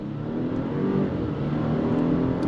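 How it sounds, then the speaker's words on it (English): A 2024 Porsche Cayenne SUV accelerates hard from a dead stop in first gear, its engine droning loud and steady and close throughout, with no voices. "I want to go on throttle from a dead stop, first gear."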